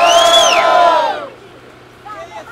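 Rap battle crowd roars, shouting and cheering loudly together at a Brazilian freestyle battle event, then dying down into murmurs before a second, smaller burst of whoops near the end.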